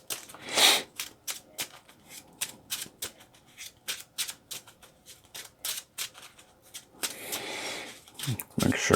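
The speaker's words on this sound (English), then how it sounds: "Make sure we shuffle" Playing cards being shuffled repeatedly during a Marvel Champions card game, a run of quick crisp riffling bursts close by, with brief pauses and talk in between.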